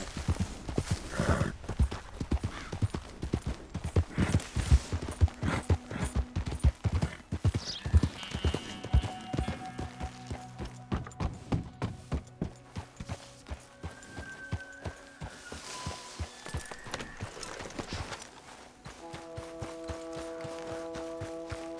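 Horse hooves clip-clop and gallop close up in the Western video game Red Dead Redemption, a fast rhythmic run with a whinny, slowing near the end as music swells.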